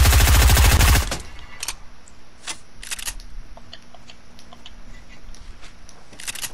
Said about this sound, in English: I can hear the gunfire.